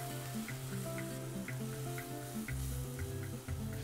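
Tomato puree sizzles as it hits browned onions and garlic in a pan while cooking a jackfruit curry, a steady soft frying hiss under background music.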